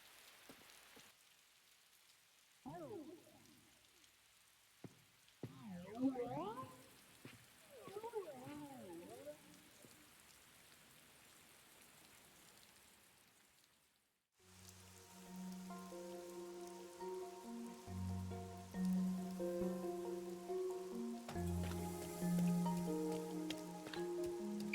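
Steady city rain patters from Master Detective Archives: Rain Code, first under game voice sounds, then beneath rising synth music as the downpour continues throughout.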